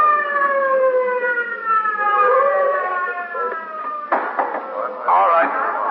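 A police car siren wails wide open with a steady rising tone, loud and near, then gives way to a burst of voices talking over it from an old radio drama scene.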